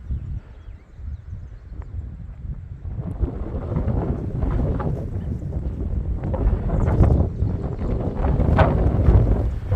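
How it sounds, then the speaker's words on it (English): Steady, rumbling wind on a mountaintop buffets the microphone in low gusts, growing stronger and more turbulent toward the end, with no voices. "it's a little windy up here"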